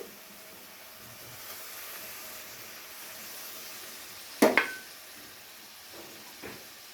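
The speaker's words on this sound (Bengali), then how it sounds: "সমস্ত কিছু দিয়ে আবার একবার খুব ভালো করে কষিয়ে নিয়েছি" Masala for rui fish kalia sautéing in a pan, a soft, steady sizzle with a sharper burst and a few clinks of stirring partway through, then quieter hissing.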